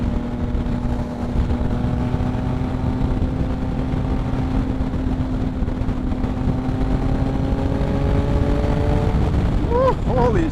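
Yamaha MT-09 motorcycle fitted with a Two Brothers exhaust pulling hard in sixth gear at highway speed, a loud continuous engine drone that climbs steadily in pitch under heavy wind rush from the rider's position.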